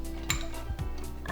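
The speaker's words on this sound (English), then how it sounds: "I'm just going to scoop these out right onto the plate" Cooked shrimp in sauce are scooped out of a frying pan onto a plate, giving a few quiet metallic scrapes and clinks of a utensil against the pan, close but soft, with no voices.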